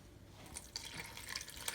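Oat milk is poured into a blender for a banana spinach smoothie, making a faint, brief liquid trickle with small drips and splashes close by.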